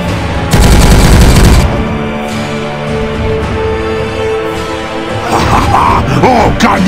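Gunfire in a Warhammer 40000: Regicide battle between Space Marines and Orcs, with a loud, dense burst of shots early on, followed by a sustained rumbling battle bed and renewed crackling toward the end.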